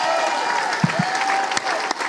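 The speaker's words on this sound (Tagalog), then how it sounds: "Bigyan natin ng magandang palakpak ang ating dakilang Diyos." A church congregation applauds during a worship service, producing a dense, continuous wash of clapping from a large crowd with a few louder individual claps standing out. A faint sustained tone sits beneath it.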